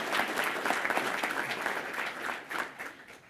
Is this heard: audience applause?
yes